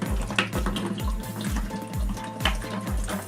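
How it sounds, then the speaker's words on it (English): Water is emptied from a siphon bottle into a bucket, pouring steadily with a regular glugging pulse as air bubbles back in, close and continuous with no speech. "Things like the siphon bottle can simply be emptied"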